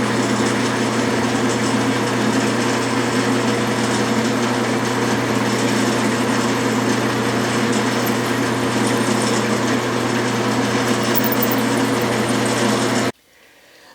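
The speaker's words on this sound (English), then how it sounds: "And now the reamer." Steady, loud machining whir as a reamer works a metal part for a Stuart steam engine, running continuously for about thirteen seconds before cutting off abruptly.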